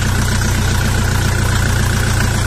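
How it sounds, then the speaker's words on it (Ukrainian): A 40 hp Dongfeng or Lovol mini tractor's diesel engine runs loud and close with a steady throbbing drone, holding a constant rev without pauses and with no voices. "Їде, газує."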